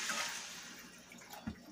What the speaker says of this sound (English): I'm going to go ahead and just put a little bit of water on here